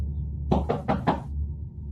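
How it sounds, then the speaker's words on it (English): Four quick, firm knocks rap on a window at night, evenly spaced and close, standing out sharply against a quiet low hum. "a knock came at my window"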